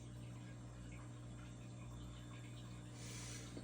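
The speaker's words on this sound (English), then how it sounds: "Water powered backup sump pump." A water-powered backup sump pump runs with a steady rushing, hissing flow and a constant low hum, faint and unbroken, swelling slightly in brightness near the end.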